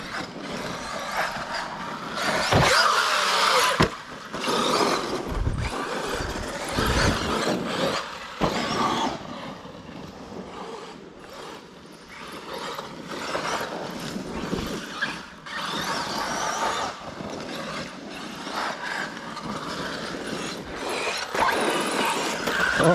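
A Traxxas Maxx 6S RC car drives along a woodland trail, its electric motor whining and rising and falling with throttle bursts, joined by rattling and clattering from the chassis over rough ground, steady and fairly close throughout.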